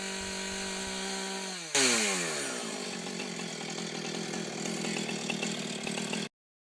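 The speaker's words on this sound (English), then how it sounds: "I snipped the tops to the correct height with the chainsaw." A chainsaw idles and then bites in with a sharp rise, buzzing loudly as it cuts through the tops of wooden posts before cutting off abruptly.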